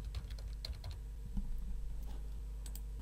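Rapid clicks of typing on a computer keyboard while entering a command in BricsCAD CAD software, a close, uneven burst of keystrokes at first that thins to a few scattered taps over a steady low hum.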